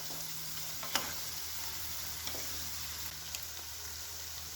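Spiced eggplant bharta (ringan nu bhartu) with coriander-cumin powder is stirred in a pan: a low, steady sizzling hiss with a few faint spoon taps and scrapes, and no voices.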